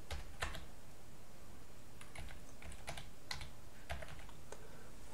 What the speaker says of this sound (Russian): Напечатаем что-нибудь приветственное.